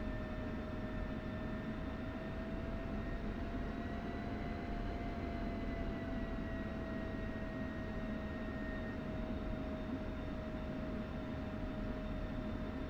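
An F-16 jet engine in the DCS flight simulator during a non-afterburner takeoff roll, a steady faint roar and hiss with a thin sustained whine, constant throughout with no talk.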